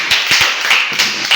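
A church congregation claps in quick, uneven bursts at a lively worship service, hands striking in a loose rhythm close by, with no speech over it.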